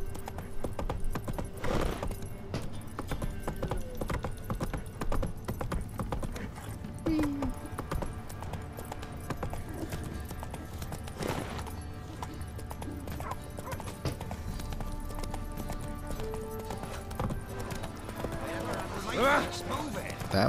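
The horse Roach gallops in The Witcher 3: Wild Hunt, with a continuous rhythmic clip-clop of hooves running throughout, occasional whinnies, and voices heard at times over the game sounds.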